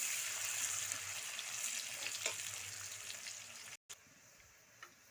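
Onions fry in a pan, browning with a steady soft sizzle and a few faint stirring scrapes, heard alone at low volume with a brief gap near the end.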